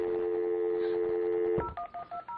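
A landline phone goes from a steady dial tone to touch-tone dialing, with a quick series of short beeps in an even rhythm as a number is keyed in.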